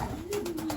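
A racing pigeon coos in a short, low murmur at close range, with a faint steady hum running underneath.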